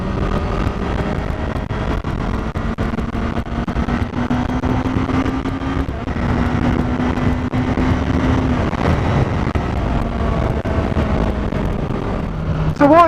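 A litre-class sports motorcycle under way, with a steady engine drone and heavy wind rush that barely changes for the whole stretch, and a short rising rev at the very end.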